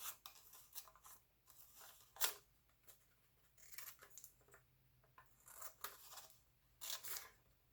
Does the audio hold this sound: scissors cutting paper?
yes